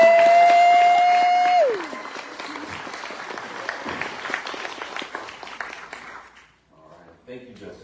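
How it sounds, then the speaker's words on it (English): Audience applause at a talk in the Charles Schulz Museum, loud and dense with a few cheers, fading out after about six seconds with a steady tone at the start and some talk at the end. "So please join me with another round of applause."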